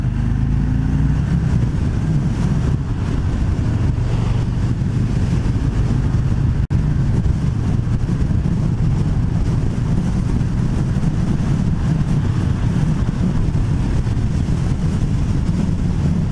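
A 2020 Harley-Davidson Fat Boy 114 cruises in sixth gear at about 70 mph and 2400 rpm, its steady low engine drone largely buried under constant roaring wind buffeting the microphone.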